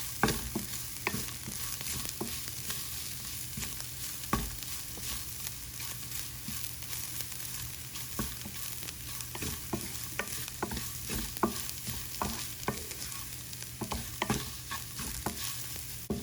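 Green chillies sizzle and crackle steadily in hot oil for oats upma, with frequent scrapes and taps of a spatula stirring the pan throughout.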